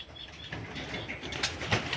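Racing pigeons flap their wings close by at a loft during training, producing a dense, noisy flutter with several sharper beats toward the end, fairly faint overall with no talk.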